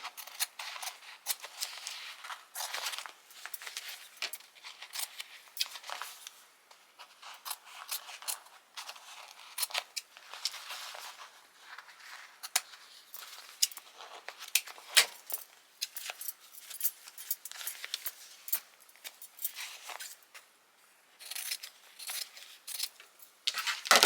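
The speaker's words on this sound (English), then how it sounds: "we're just going to cut close to the stitches without cutting into them" Scissors snip close to embroidery stitches, trimming thread and stabilizer on a stitched beanie hat. Quiet, crisp cuts repeat in an uneven rhythm throughout, with no talking.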